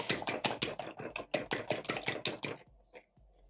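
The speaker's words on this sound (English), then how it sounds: "Whisk the eggs" Eggs whisked briskly in a bowl, with about a dozen quick rhythmic taps close by that stop after a few seconds.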